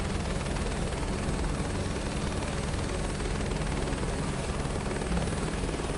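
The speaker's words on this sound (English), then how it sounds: "Still not very good at flying the helicopters," A helicopter flies in the Microsoft Flight Simulator 2024 video game, a loud, steady rotor-and-engine roar with rapid blade chop, continuous and close throughout, with no talk over it.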